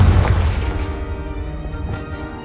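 A booming fire-spell blast from the Hogwarts Legacy video game, a loud low explosion at the start that rings out and decays over about two seconds.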